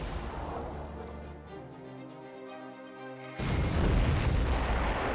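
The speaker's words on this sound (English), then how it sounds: "we've got 2 artillery units targeting them" Artillery fire and explosions in the Command Modern Air Naval Operations war game, heard as a low droning rumble that bursts into a loud, sustained boom near the end.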